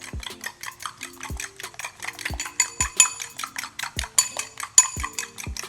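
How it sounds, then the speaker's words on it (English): Two eggs are whisked briskly in a bowl, a fork or whisk clicking against the sides in a quick rhythmic patter of repeated taps, close and clear. "Break, whisk really well until it's super combined, okay?"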